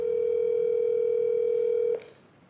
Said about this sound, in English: The intensity when the phone is ringing, you don't know if they're gonna pick up or not.